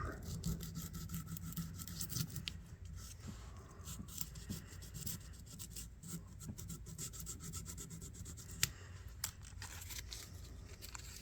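A straight emery board rubbed against a vintage knife blade, giving a steady, close rasping scrape with quick back-and-forth strokes throughout and no speech.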